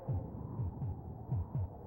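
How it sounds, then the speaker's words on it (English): Fast heartbeat from the SNES game Populous: a quick run of paired low thumps that repeats about every half second, close and steady over a soft constant hum. "you all can hear that the heartbeat is a lot faster now"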